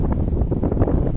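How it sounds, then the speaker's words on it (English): Strong gusting wind buffets the microphone in a loud, low roar for a brief moment on Lime Cay, a small island off Port Royal, Jamaica. "It's very windy and very breezy."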